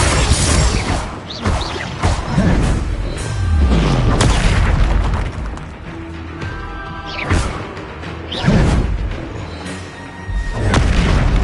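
Repeated Confringo explosion spells go off in Hogwarts Legacy combat, loud booming blasts and crashes arriving every couple of seconds amid whooshes and clattering battle noise.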